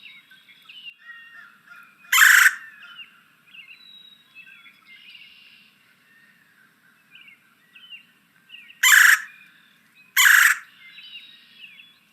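A recorded red-bellied woodpecker, a very common Kentucky bird, calls in bright, repeated chirps and trills, with three louder rolling calls standing out over a quieter chattering background.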